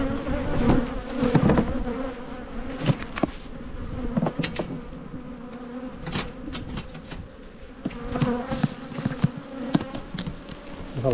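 Italian honeybees buzzing loudly around an opened orange beehive, a dense continuous hum close to the listener, with occasional sharp knocks and clicks of hive frames being handled.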